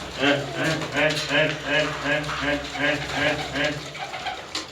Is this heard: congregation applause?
no